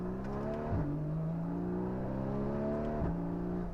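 A 2015 Porsche Cayman GTS with PDK gearbox revs hard through the gears, engine pitch climbing steadily and then dropping sharply at two quick upshifts, loud and close with no talking.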